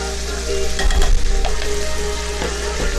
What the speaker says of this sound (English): We're going to go ahead and put in our marinara sauce